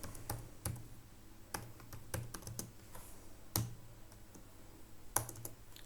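Computer keyboard typing HTML list item tags, a quiet close series of scattered key clicks and taps in irregular bursts, with no one speaking.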